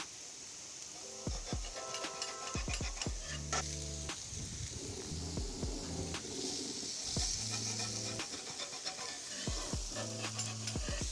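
Smash burgers flipped on a Blackstone 28 inch griddle during its first cook keep up a faint, continuous sizzle, with scraping clanks from the spatula and birds cooing and chirping nearby.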